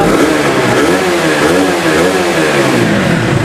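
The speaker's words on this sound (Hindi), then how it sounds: "आप लोग इसके इंजन की भी कंडीशन देख लीजिए, काफ़ी लाउड है" A used motorcycle engine at a second-hand bike dealer revs loudly and continuously, its rough, throbbing note rising and falling close by with no talk over it.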